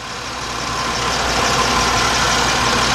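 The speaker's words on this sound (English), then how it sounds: "This engine's running really well." A 2004 Chevy Monte Carlo 3.4-liter V6 idling steadily while still cold, a constant close engine hum with no speech for a few seconds.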